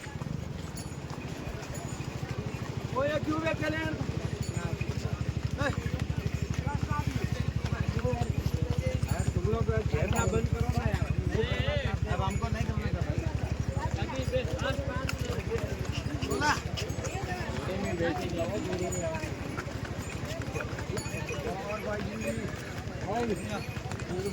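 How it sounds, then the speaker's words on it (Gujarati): Horse hooves clip-clop steadily on a rough, broken mountain pilgrimage trail in the Char Dham region, a continuous rhythmic plodding under wind noise while a person talks. "આપણે ઘોડા ઉપર જઈ રહ્યા છીએ"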